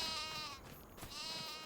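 Two faint, wavering bleats of sheep from a pen sound at a distance, with quiet outdoor ambience between the calls.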